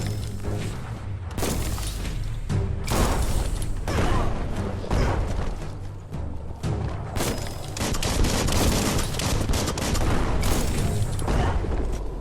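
A bomb lobber weapon firing in Biomutant, repeated loud booming blasts with shattering debris and mechanical clatter, coming in bursts over a steady rumbling combat backdrop.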